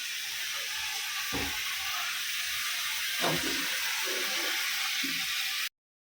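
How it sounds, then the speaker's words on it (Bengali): Ridge gourd fries in a pan with a steady, close, hissing sizzle, broken by a few soft low bumps from stirring. "চলো ঝিঙেটা ভাজা ভাজা হোক"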